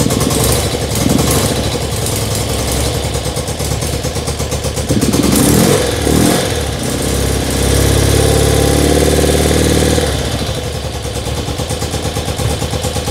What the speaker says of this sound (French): On attend que ce soit chaud, mais le ralenti a l'air meilleur.